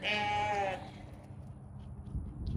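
A sheep on a farm where lambing is expected gives one loud, drawn-out bleat close by, then the sound drops to low barn rustling and movement with no further calls.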